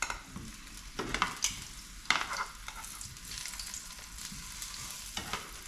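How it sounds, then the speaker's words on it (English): Breadcrumbed courgette slices coated in flour and egg fry in a pan with a steady soft sizzle, broken by a few close clicks and scrapes as they are moved, no voices. "And then you pan fry the courgettes"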